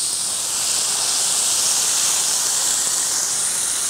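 Grated tomatoes go into vegetables frying in a kazan over a campfire while making paella, giving a loud, steady, hissing sizzle that holds unbroken throughout with no voices.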